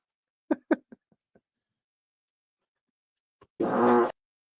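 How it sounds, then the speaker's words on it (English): A fart sound effect: one sustained, buzzy blast of about half a second, loud and alone, preceded by a few faint short blips and a brief quiet tick. "I need to go back and I need to get Cat's fart"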